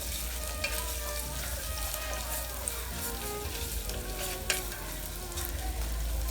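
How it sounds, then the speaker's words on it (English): Onion frying with salt in a pan for a Kerala dish, a continuous close crackling sizzle with faint stirring clatter, no voices. "So adding salt along with the onion will make the onion saute little faster."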